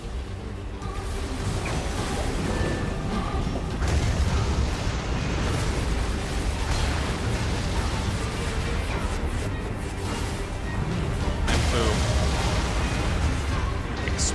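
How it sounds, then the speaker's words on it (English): Explosions rumble through a loud, dense battle in the action game NieR: Automata, a continuous roar of blasts and mechanical clatter with sharper bursts near the start and end. "Explosions abound."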